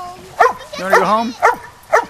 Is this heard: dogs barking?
yes